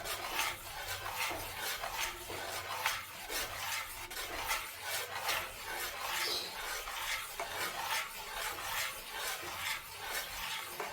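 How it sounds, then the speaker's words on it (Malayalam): Carrot halwa being stirred in a pan, a steady rhythmic scraping and rubbing of the spoon against the pan bottom with a faint sizzle, close and quiet, no talking. "ഇതുപോലെ ഇളക്കിക്കൊണ്ടിരിക്കണേ"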